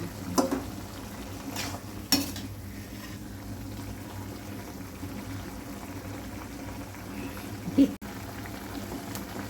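Garlic kuzhambu simmers in a pan with a soft, continuous bubbling boil. A couple of brief clinks and taps rise briefly above it, and no one speaks.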